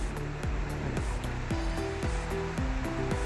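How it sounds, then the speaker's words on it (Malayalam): A covered pot of chicken haneeth with salt and dried lemon boiling on the stove, a steady loud rushing bubble with faint rhythmic clicks throughout, close and continuous, with no talking. "തിളപ്പിച്ചെടുക്കാം."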